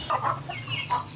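A mother hen that recently raised chicks clucks in a few soft, close calls, with low background hum underneath.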